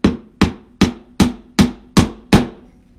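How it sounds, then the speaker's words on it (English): A hammer pounds a wooden dowel into a spool board in seven evenly spaced, sharp knocks, each ringing briefly and decaying before the next. "So you just want to pound that in there."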